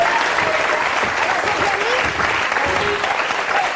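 A French TV game show studio audience bursts into loud, sustained applause for a woman who has just won a car, a dense wash of clapping that carries on for several seconds.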